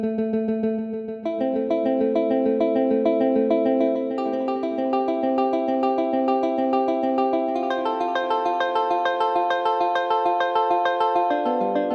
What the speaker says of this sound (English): Next up, I have this arpeggiator.